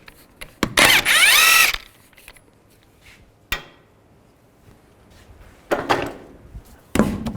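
Impact wrench bursts loosening 21mm wheel nuts on a 2005-15 Nissan Xterra, one loud whirring run near the start, then a sharp clank and two shorter bursts later, close by in a garage setting.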